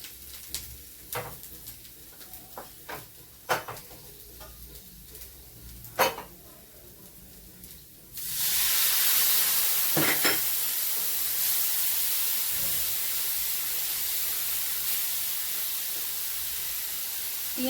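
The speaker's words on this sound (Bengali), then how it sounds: "পেঁয়াজটা লাল লাল ভাজা হয়ে গেছে," Onions turned deep red frying in a pan with turmeric and chilli for palak paneer, the loud, steady sizzle and hiss bursting in suddenly after a quieter stretch of stirring clicks and continuing strongly to the end.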